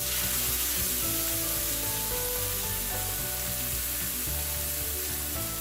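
Tomato and tomato paste go into a pan of well-charred onions for mutton dum biriyani, setting off a loud, continuous, dense sizzle that stays close and steady throughout with faint background music underneath.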